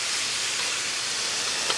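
Vegetables steam in a wok with a splash of water, a steady bright hiss and sizzle that runs unbroken at moderate loudness with no voices.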